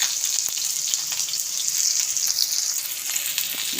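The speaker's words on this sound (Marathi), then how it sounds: "मस्त कांदा परतून घ्यायचा मस्त कांदा एक मिनिटभर छान असा परतून घेऊया" Finely chopped onion sautéing in a pan, giving a steady, close sizzle with light stirring taps throughout and no talking.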